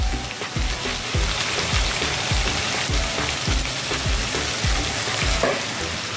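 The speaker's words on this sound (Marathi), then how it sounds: "सोयाबीन जे आपण भिजत ठेवलं होतं ते असं पाण्यातून पिळून काढून ते घालून घेते या कढईमध्ये मी" Soaked, squeezed soybean chunks frying in a hot kadhai, a steady close sizzle with soft rhythmic stirring scrapes throughout and no talk.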